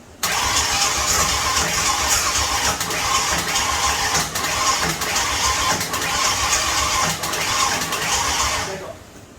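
A 1993 Ford Mustang engine cranks with a rapid whirring churn, then catches and runs steadily at a close, loud idle before cutting off abruptly.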